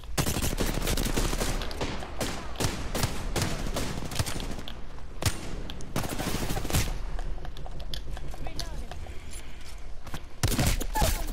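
Gunfire in the shooter game Apex Legends: loud, dense volleys of rapid shots pour out almost nonstop for the whole stretch, with brief lulls between bursts and no talking.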